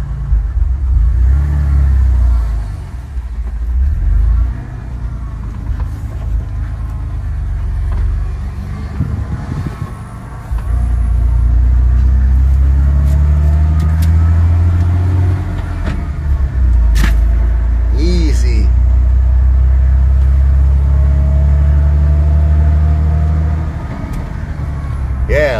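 A Ford F250 pickup with the 4.9 engine rumbles steadily while driving and hauling rock, a low engine drone that rises and falls with throttle, with some talk inside the cab.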